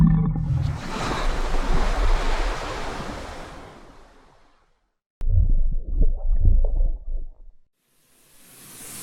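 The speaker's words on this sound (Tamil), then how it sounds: "அலைகள் அடங்கின பெரிய சத்தம் குறைந்து கடல் மீண்டும் அமைதியாக ஒலித்தது" Ocean waves surge loudly and roll across the shore, then fade to silence before a shorter, softer wash of surf returns and dies away, with a faint hiss rising again at the end.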